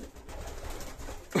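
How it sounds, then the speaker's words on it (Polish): Racing pigeons coo softly in a breeder's loft, low murmuring calls repeating in the background, fairly faint, with a brief louder rustle at the very end. "No przepiękne gołębie"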